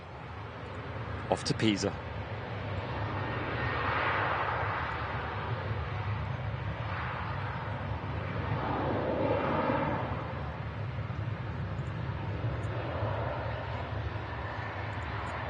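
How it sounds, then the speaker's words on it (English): A Ryanair airliner takes off from a Manchester Airport runway, its engine roar a steady, broad rumble that swells and holds at a distance. A person speaks briefly near the start. "Here goes the Ryanair."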